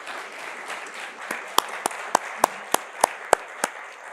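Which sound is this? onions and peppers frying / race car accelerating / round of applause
round of applause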